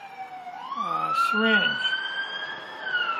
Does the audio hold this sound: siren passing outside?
yes